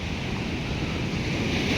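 Sea waves break on an eroding beach at Valiyaparamba, a continuous heavy roar of surf mixed with wind buffeting the microphone, steady and loud throughout with no voices.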